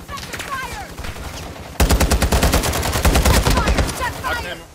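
Rapid automatic gunfire in the Warzone video game: a sudden loud burst of repeated shots that runs on steadily to the end, preceded by quieter distant firing and whooshing effects beneath a voice.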